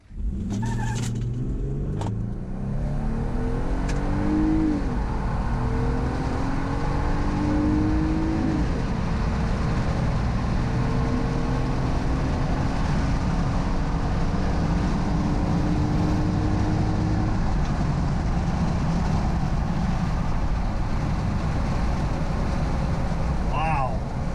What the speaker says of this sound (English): we'll be right back with me on track with the Jeep doing what it's not made to do